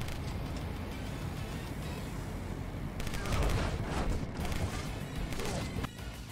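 Sustained gunfire from the Road Redemption motorcycle combat video game, dense rapid shots and blasts running continuously at high loudness, intensifying midway with crashing bursts, with no talking over it.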